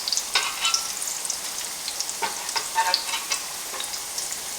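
Fish pan-frying in hot oil over a small fire, giving a steady bright sizzle with crackling pops and spits scattered throughout, close and fairly loud, with no voices.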